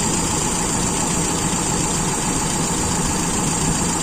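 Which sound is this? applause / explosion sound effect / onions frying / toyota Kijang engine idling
toyota Kijang engine idling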